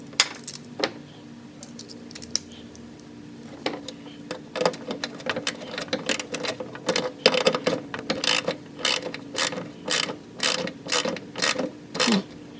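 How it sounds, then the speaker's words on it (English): Ratchet with a 7/16 socket working a bolt on a lawn mower, rapid pawl clicking in repeated bursts that become a regular back-and-forth rhythm, close and clear, no talking. "Grab your 7/16 socket."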